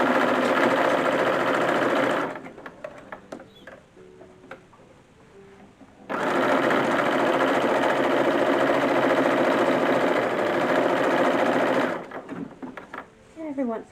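A sewing machine with a piping foot stitches piping onto a mid-19th-century bodice, running in two loud, steady whirring bursts of several seconds each, separated by a quieter pause filled with small handling noises and soft talk.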